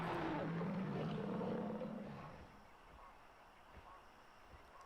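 A dinosaur roar from the Jurassic Park: Operation Genesis video game, with a T. rex facing a Spinosaurus. A loud, rough, drawn-out bellow dominates the first two seconds, then trails off into quieter rumbling.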